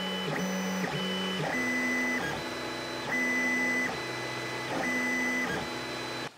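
A Tevo Tarantula Pro 3D printer runs steadily, its stepper motors whining in shifting musical tones that step up and down as the head moves, with a constant fan hum underneath.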